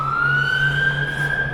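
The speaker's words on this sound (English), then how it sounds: "I hear sirens." A wailing ambulance siren holds a steady high tone that slowly rises, sounding fairly close over a constant low rumble of traffic on a street in Mayfair, London.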